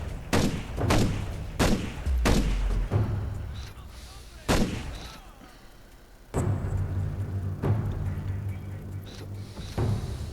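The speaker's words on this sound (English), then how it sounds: "So I just shot that guy through the wall." Gunfire from a powerful rifle in the shooter game GRAW 2, fired through a wall: a string of loud, sharp reports, several in quick succession early on and more spaced out, with battle noise rumbling between them.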